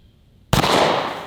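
A single deafening shot from a 500 Magnum handgun fired upside down cracks after a half-second hush, close and sharp, its blast ringing and decaying through the rest of the moment.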